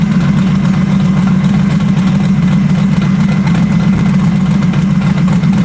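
A turbocharged engine runs steadily on a dyno, a loud, constant low drone held without a break for several seconds, no voices over it.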